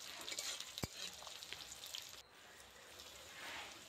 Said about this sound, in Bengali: তো পেঁয়াজটা আর কাঁচা লঙ্কাটা একটু ভেজে নেব।